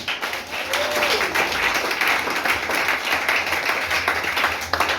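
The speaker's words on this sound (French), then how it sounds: "Acclamons le Seigneur." A church congregation claps and applauds steadily throughout, a dense continuous wash of hands with some voices mixed into the crowd.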